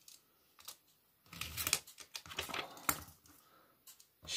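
A knife cuts and trims a card mat along its folds in a series of irregular scraping, ticking strokes, close and fairly quiet, with brief pauses between bursts and no talking.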